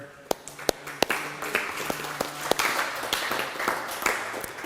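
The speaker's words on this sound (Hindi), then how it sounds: "ताली बजाओ" People clapping hands at a devotional gathering in front of their doorways, sharp claps landing singly and in loose clusters over a murmuring background.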